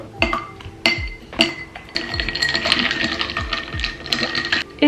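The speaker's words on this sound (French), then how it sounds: "Et les glaçons." Ice cubes dropping into a glass of rice-almond milk, giving a run of bright clinks and clunks, several distinct impacts then a rattling settle, loud and close with no talking.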